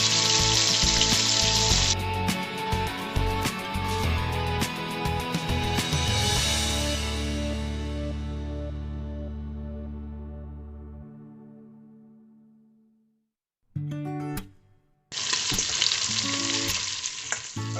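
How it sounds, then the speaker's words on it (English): Andouille sausage is seared in a pot for Louisiana gumbo. Loud music plays first and fades to silence, then a bright, close, broadband sizzle of the frying sausage takes over near the end. "Our next flavor, andouille sausage. We're just going to take this, sear it off just like we did everything else."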